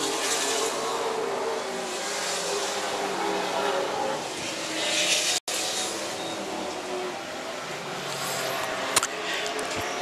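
Race cars lapping at Charlotte, a continuous roar of engines across the track with a brief cutout midway and a faint squeal near the end, heard at moderate distance under a commentator's voice.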